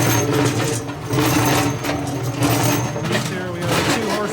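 A sand muller runs with its wheel and plows turning and mixing foundry sand, driven by a 2 horsepower 40-to-1 gearbox, giving a steady loud mechanical churning hum with a rhythmic pulse throughout.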